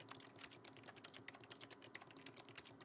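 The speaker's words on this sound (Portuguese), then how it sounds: "ele faz barulho de quem tá digitando alguma coisa?" Rapid, continuous keyboard typing clicks play as an interaction sound in the video game The Stanley Parable, quiet and evenly paced with no voices.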